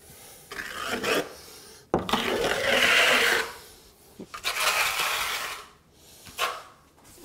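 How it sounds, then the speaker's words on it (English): A trowel scrapes and smooths floor leveling compound across a floor in several long rasping strokes with short pauses between them, heard up close and alone. "you can actually use a trowel to smooth it out"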